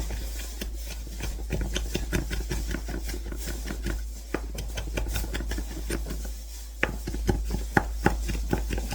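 Knife chopping guacamole ingredients into tiny pieces on a cutting board, a fast, steady run of close, sharp taps over a constant low hum, with no talking.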